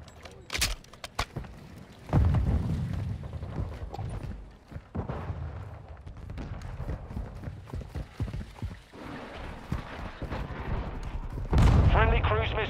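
First-person shooter gunfire pops in bursts, sharp shots scattered across the stretch, with heavier volleys at a few moments, mixed with a player talking over the game sounds.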